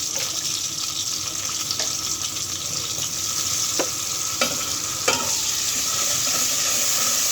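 Two green chilies frying in hot oil for a greens and fish dish, a constant close sizzle with a few light clicks of a utensil and no talking.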